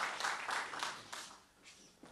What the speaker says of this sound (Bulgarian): Посрещете с аплодисменти Владимир Крумов